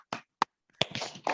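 A few sharp hand claps for a classroom clapping chant about the digestive organs, spaced apart at first and then running into a denser, noisier patch of claps near the end.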